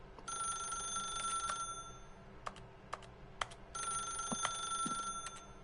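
An electronic telephone bell rings twice in The Stanley Parable video game, two bright sustained bursts, with keyboard clicks and taps in between and no talking.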